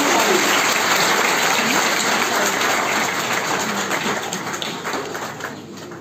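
Loud, dense applause from an audience at a university dialogue on media freedom on a campus in Islamabad, a steady roar of clapping that slowly fades toward the end.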